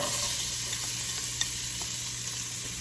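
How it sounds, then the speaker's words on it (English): Carrots and onions sizzle steadily in a pot of melted fat for a mirepoix, with a continuous close frying hiss and a few faint scrapes of stirring, and no talking. "We are going to let this cook for 3 minutes, stirring pretty much constantly because you don't want it to burn."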